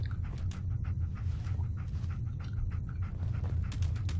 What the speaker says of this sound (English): You crazy dog!